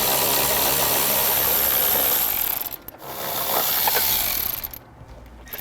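Ratchet wrench turning a 10mm bolt on a 2014 Toyota FJ Cruiser during trailer wiring work, a steady dense clicking that runs nearly continuously close up, with two brief pauses.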